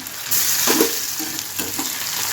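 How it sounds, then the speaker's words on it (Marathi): Onion fries in hot oil in a pan with a steady close sizzle, broken by a few scraping stirs. "कांदा चांगला तळून घ्यायचा आहे"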